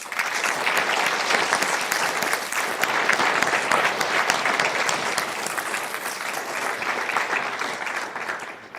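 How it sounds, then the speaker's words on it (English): A crowd applauds the 191st Military Police Company Soldier and Family Readiness Group at a military welcome home ceremony, dense continuous clapping holding steady throughout and fading slightly at the close. "Please give a warm round of applause for the 191 Military Police Company Soldier and Family Readiness Group."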